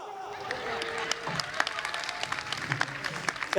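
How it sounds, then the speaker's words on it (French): Stand-up comedy festival audience in a hall breaking into applause mixed with laughter, steady clapping with sharp individual claps throughout, fairly close and moderately loud, with a voice briefly heard over the crowd. "vous faites un applaudissement qui fait tomber l'étage là"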